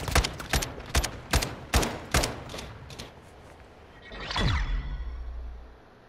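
Gunfire in a shooting video game: a rapid run of about eight sharp shots in a steady rhythm, fading in strength, followed by a whooshing sweep that settles into a low rumble.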